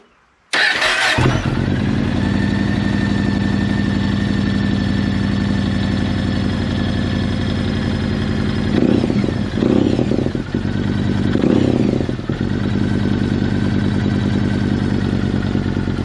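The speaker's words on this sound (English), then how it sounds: "So we're going to start the bike up, give it a couple of revs, circulate the oil through" A Yamaha MT-01 motorcycle engine cranks and fires, then settles into a loud, steady idle with two brief revs partway through before returning to idle, close by with no talk.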